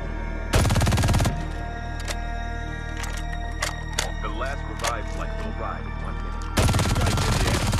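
An MG42 machine gun fires in a first-person shooter video game: a loud, sustained automatic burst at the start and another at the end, with quieter clicks and faint game sounds in between.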